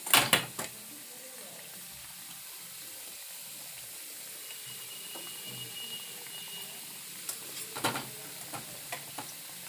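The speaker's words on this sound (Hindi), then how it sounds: "अब मैं एक एक करके गुजिया डालूँगी।" Gujiya dropped into hot refined oil in a pan, sizzling steadily with a burst of crackle and a clatter at the start and more spatter bursts later.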